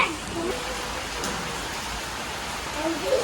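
Steady rain falls outdoors by a riverside village, a continuous even patter and hiss of drops that stays at one level throughout with no distinct voices.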